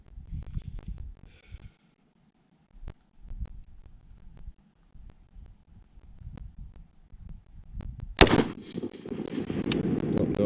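A PSA 10.5-inch AR pistol fires at a shooting range, giving several sharp, spaced cracks among quiet stretches, then one much louder close blast followed by a lingering noisy rumble.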